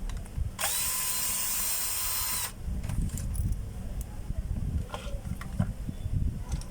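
A power tool whirs loudly for about two seconds as it backs a screw out of an appliance housing, followed by clicks, handling clatter and faint rustling.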